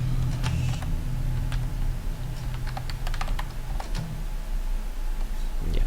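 Keyboard typing while entering a word in the puzzle horror game Veiled, with a string of quick light key clicks over a low steady background hum.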